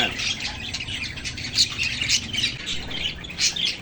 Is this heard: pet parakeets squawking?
yes